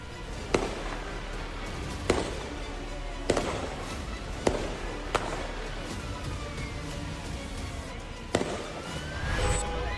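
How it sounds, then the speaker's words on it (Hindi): Sharp gunshots ring out one at a time at irregular intervals, about seven over several seconds, loud and echoing with no voices, during a terror attack at Bondi Beach, Sydney. "वहां से अंधाधुंध फायरिंग करने लगते हैं"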